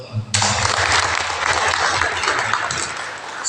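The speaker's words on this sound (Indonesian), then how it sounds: "Tepuk tangan untuk teman-teman." A parish family recollection gathering breaks into applause after a brief voice, dense clapping from the audience bursting in and holding steady.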